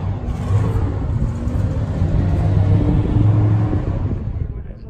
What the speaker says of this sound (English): Dodge Charger starting up in the background